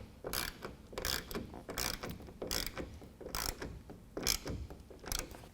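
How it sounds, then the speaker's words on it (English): A 1/2 inch ratchet tightens a tonneau cover rail clamp on a 2012 Ford F150, giving repeated rhythmic bursts of sharp ratcheting clicks, close and distinct, with short gaps between strokes. "it down just till it's snug with a 1/2 inch ratchet"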